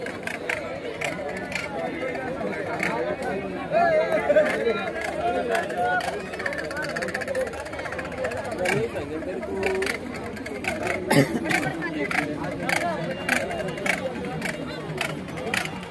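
Busy crowd at the Mulher Ras Mandal yatra, a village fair beside toy and cap stalls, a steady dense murmur of many voices with clatter, while people talk close by.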